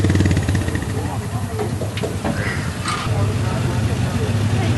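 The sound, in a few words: wood-fired steam engine running at a threshers show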